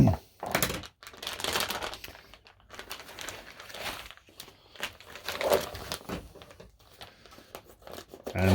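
Plastic vacuum bags holding cure-coated pork belly are cut open, giving crinkling, tearing and rustling bursts with soft knocks, close by and alone.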